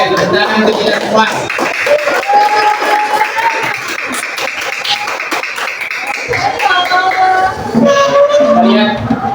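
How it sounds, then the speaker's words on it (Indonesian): Classroom group claps in applause, with brisk close hand-claps running under a voice speaking throughout. "Oke, tepuk tangan untuk kita semua."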